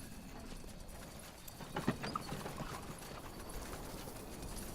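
Faint, rapid hoofbeats of horses clip-clopping in a steady run in the video game SpellForce 3, under a low background hum, with a brief whinny partway through.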